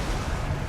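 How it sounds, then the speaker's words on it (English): A loud, dense rumbling blast from a comet spell in Total War: Warhammer 2 fills the whole moment, a single sustained explosion with no voices. "That's an explosion."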